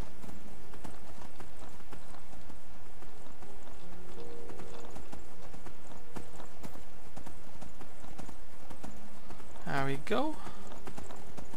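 Horse hooves clip-clop steadily at a gallop in the Skyrim video game, a continuous rhythmic beat throughout, joined near the end by a brief whinny, with a person talking briefly over it.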